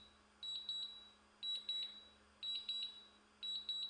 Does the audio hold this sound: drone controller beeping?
yes